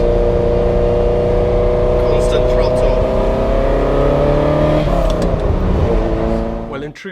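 A Ferrari Enzo's engine holds a steady drone under constant throttle, loud and close from inside the car, with a slight irregular miss and a shift in tone near the end as it eases off.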